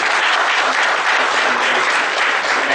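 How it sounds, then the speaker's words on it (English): Steady, dense applause from a seminar audience on audit of small and medium entities, loud and continuous throughout with no pauses or talk over it. "A whole round of applause,"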